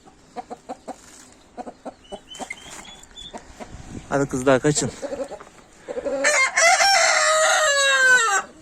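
Hens and young chicks cluck and cheep in a coop, with short rhythmic clucks at first, then a louder, busier stretch of calls near the end, while a person speaks briefly over them.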